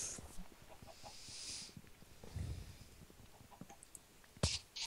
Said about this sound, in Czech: To slepice.